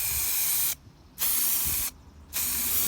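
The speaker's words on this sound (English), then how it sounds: "with gloves on, we have self-etching primer, so we're going to shake this up pretty well" Self-etching primer hissing from a spray can onto a VW Mk1 Golf oil sump pan, two steady close bursts broken by short pauses, loud and continuous with no talk.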